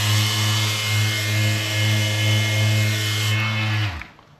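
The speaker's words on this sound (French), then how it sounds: "tu prends ta petite ponceuse, tu prends pas un grain trop bas" A small electric sander runs steadily against a wall with medium-fine grit paper on a building site, a loud close whine with a humming drone that winds down and stops near the end.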